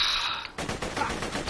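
Assault rifle gunfire in Borderlands 2, a tone-filled game sound giving way to a burst of rapid, tightly spaced shots that continue steadily to the end, with no talking.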